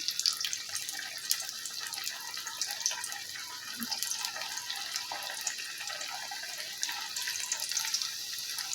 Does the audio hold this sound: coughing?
no